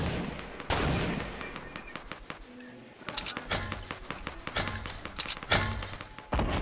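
Gunfire from Fortnite video game play rattles in dense, close bursts of rapid shots with a brief pause midway, loud and continuous through the stretch.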